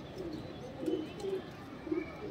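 Rajasthani blue pigeons, a large full-size pair in a loft, give soft low coos in a few brief repeated phrases over steady background hiss.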